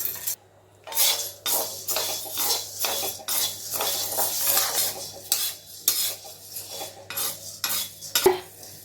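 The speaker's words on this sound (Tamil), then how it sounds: "1/4 கிலோ உளுத்தம்பருப்பை வறுத்துக்கணும்" A quarter kilo of urad dal roasts dry in a pan for idli milagai podi, a spoon or spatula scraping and stirring the grains in continuous rough strokes, close and moderately loud.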